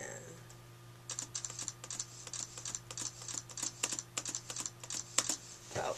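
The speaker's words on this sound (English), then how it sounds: "If you're using iStopMotion, it's just press the spacebar a bunch." A computer keyboard's spacebar is tapped repeatedly in a quick, fairly even rhythm, soft, close clicks over a low steady hum, with no voices.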